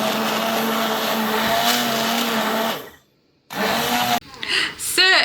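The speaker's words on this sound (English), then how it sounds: "We have finished blending it." A Ninja Creami machine blends blueberry ice cream with a loud, steady motor whine and grinding. It stops abruptly, then resumes briefly, and a voice comes in at the end.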